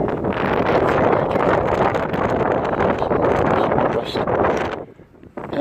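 Strong wind buffets the microphone outdoors during a wild, windy day of wood carving, a loud continuous rumbling roar that drops away near the end.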